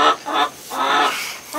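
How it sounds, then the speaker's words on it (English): Loud, drawn-out squawking calls from a backyard laying hen indoors, several honk-like bursts in a row, close and alone with no talk. "it can be really frustrating to hear a chicken constantly singing inside the"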